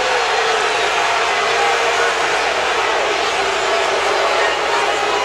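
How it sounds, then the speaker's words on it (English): A basketball arena crowd roars in a loud, sustained wash of angry booing and shouting after an offensive foul call in a Louisville versus Florida State game, with a commentator's voice under the noise. "Crowd incensed."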